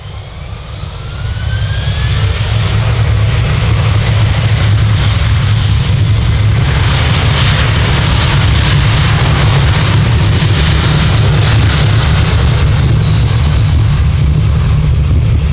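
An airliner departs Manchester Airport, its engines building to a loud, steady roar that fills the whole stretch after a quieter opening second.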